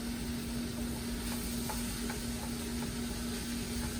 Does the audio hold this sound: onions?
yes